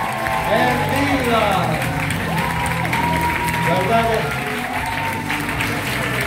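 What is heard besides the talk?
audience applause and cheering at arts therapy congress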